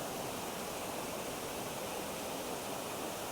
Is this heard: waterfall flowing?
yes